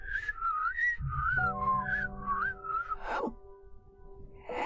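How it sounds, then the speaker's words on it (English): A cat character whistles in the video game In Sound Mind, a wavering, tuneful melody of several rising and falling notes, loud and close, over a low sustained game tone with a soft breathy burst near the end. "You're a cat. You shouldn't be able to whistle."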